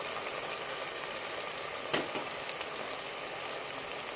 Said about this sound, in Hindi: और इसको अच्छी तरह से मिक्स कर लेंगे।